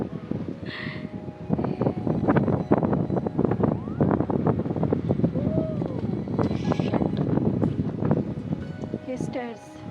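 Strong wind gusting across a rocky hillside near stairs and a tunnel, a steady loud rushing roar buffeting the microphone throughout, with a voice talking over it.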